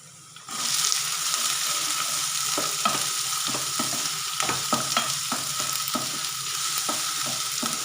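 Onions drop into hot oil with golden-brown garlic for spinach and turnip saag, setting off a steady, close sizzle punctuated by regular clicks of a spoon stirring the pan.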